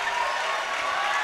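Volleyball fans rush onto the court cheering, a steady dense roar of crowd noise that holds at a constant loud level for a moment.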